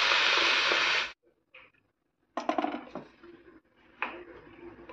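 Hot water hits a pan of frying rice with a loud, sudden hiss that lasts about a second and then stops, followed by light clattering of pot and utensil in the kitchen.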